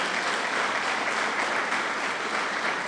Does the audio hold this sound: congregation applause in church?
yes